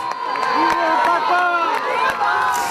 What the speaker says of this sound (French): sous les acclamations des pèlerins visiblement séduits par le message du pape